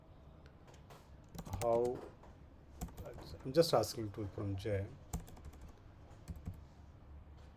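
Light clicking of keys on a computer keyboard under someone speaking quietly, the typing in short scattered bursts.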